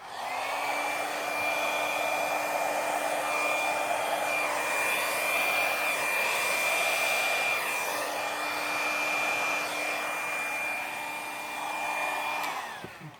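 A hair dryer blows wet paint across a seahorse painting made with a bloom technique, a loud, steady whirring roar that runs unbroken for about twelve seconds before cutting off.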